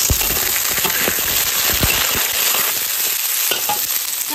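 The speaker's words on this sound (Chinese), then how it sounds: "把焯好水的羊肉倒进来炒， 翻炒一会儿" Blanched lamb pieces stir-fried in hot oil in a large pot for braised lamb, loud crackling sizzle with repeated sharp spatters and scraping tosses up close, no talking.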